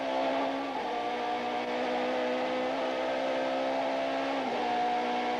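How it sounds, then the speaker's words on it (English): An Opel Astra supertouring race car at Killarney circuit in 1993, a loud high-pitched engine wail with rapid gear shifts heard as quick dips and rises in pitch, sustained and fairly close. "Just listen to those lightning-quick gear shifts."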